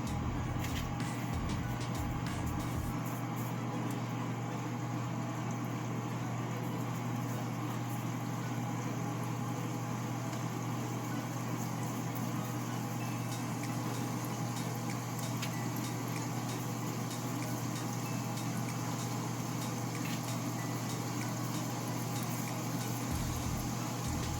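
Jamaican fried dumplings fry in hot oil, making a steady, dense sizzle that holds close and fairly loud throughout, with a low rumbling hum underneath and no talking.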